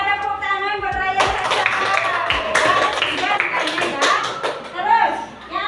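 A small group claps for a father during a home lesson, with sharp, uneven hand claps building after a sung or spoken opening and continuing under voices and chatter.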